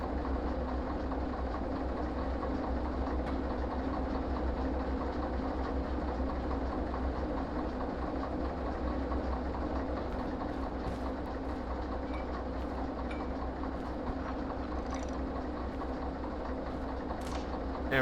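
A train rolls steadily in the railway video game Derail Valley, a continuous rumbling drone with faint clicking from the wheels and occasional sharp ticks over the top, even and unbroken throughout.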